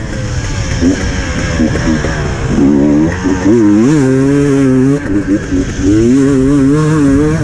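A motocross bike races on the Hawkstone Park track during a 2019 WESS main race, its engine loud and close, revving hard in rising and falling sweeps as it shifts and accelerates.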